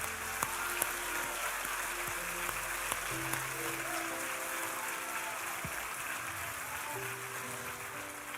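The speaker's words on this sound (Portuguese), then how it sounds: "Vamos aplaudir Jesus." Church congregation claps during a sermon, producing a steady wash of applause at moderate distance, with a few sharper individual claps standing out.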